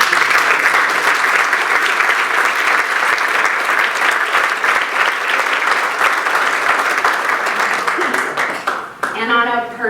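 An audience at a Regis College Athletics Hall of Fame ceremony claps loudly and steadily for several seconds in an indoor hall. The applause fades, and a speaker's voice comes in at the end.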